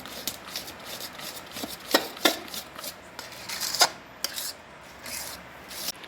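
Thick milk peda mixture with cardamom scraped and stirred in a pan, giving steady rasping, rubbing strokes with a few sharper metallic scrapes, close and fairly quiet, with no talk.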